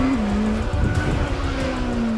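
Porsche 963 LMDH prototype race car at the Goodwood Festival of Speed, a steady loud engine note holding a constant pitch close by, with a slight dip and rise partway through.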